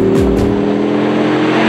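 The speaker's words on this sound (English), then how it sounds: "crank the engine to life" A Dodge Viper's engine is started and revved, a loud, steady mechanical roar with a brief rising surge at the start, close and alone.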